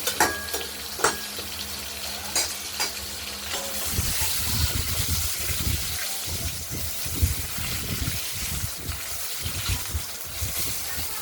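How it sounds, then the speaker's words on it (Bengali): Potato pieces fry in hot oil in a pan for a curry of freshly cut katla fish, giving a steady hiss and crackle that swells after a few seconds, with scraping and stirring knocks throughout and no talk. "আলুগুলো লাল করে ভাজা করে নিই, তারপর মশলা দেবো।"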